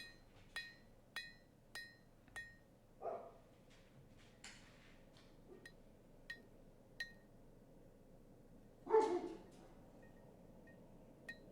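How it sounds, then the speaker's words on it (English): Sharp metallic hammer strikes ring out in an irregular series while planishing the rounded face of a hammer over an anvil horn, forging a crow's foot bending fork, several close together early on and scattered taps later, with one heavier thud near the end. "working on smoothing out, blending, and planishing the rounding face of the hammer over that horn of that anvil"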